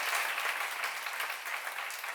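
An audience applauds at a church seminar, a dense, steady wash of many hands clapping at close range, with no break.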